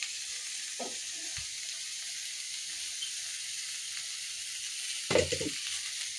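A spice paste of ginger, mustard and poppy seed fries for shukto, sizzling steadily in the pan, with a few brief stirring clatters and a louder burst of sizzle near the end.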